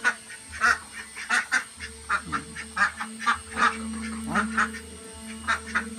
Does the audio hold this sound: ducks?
yes